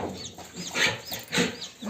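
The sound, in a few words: chickens and chicks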